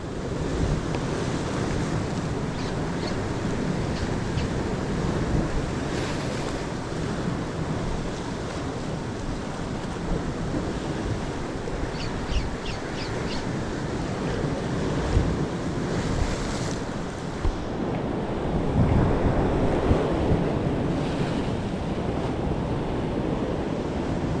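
Ocean waves crash and wash ashore continuously beneath gusty wind, a few louder surges standing out near the end; no one speaks.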